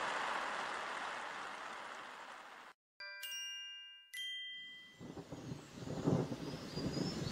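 A storm with rain from a children's story: steady hissing rainfall breaks off into a brief silence, bright chiming tones ring out, and the downpour returns with deeper rumbling swells near the end. No voices.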